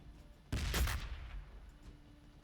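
A crack grenade explodes in the 40k: Battlesector video game, giving one sudden loud burst that crackles and fades over about half a second against quiet background ambience.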